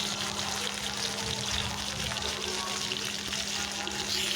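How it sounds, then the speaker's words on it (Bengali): Rohu fish frying in hot oil in a wok, a dense continuous sizzle and crackle with a faint steady hum underneath, close and unbroken throughout. "কড়াইতে তেল গরম তেল দিয়ে গরম হইলে মাছ দিয়ে দিলাম"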